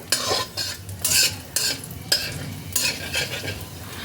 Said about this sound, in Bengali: ফোড়নগুলোকে কয়েক সেকেন্ড তেলের মধ্যে একটু নাড়াচাড়া করে নেবো